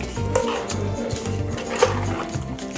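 A spoon stirring varutharacha chicken curry with roasted coconut paste and added water in a pan, giving soft repeated scraping and clinking against the metal with a low simmering bubble underneath and no speech.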